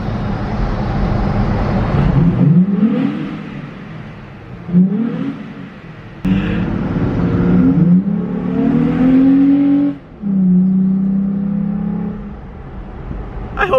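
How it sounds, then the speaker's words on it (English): A 2020 Toyota Tacoma with a K&N cold air intake, in neutral under a bridge, revs loudly in four or five rising and falling bursts, idling briefly between them, with no talking. "I'm gonna go give you some clips underneath the bridge with some neutral revs because it sounds amazing"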